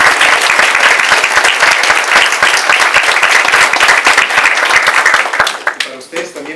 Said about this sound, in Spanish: quiero pedir un fuerte aplauso para los expositores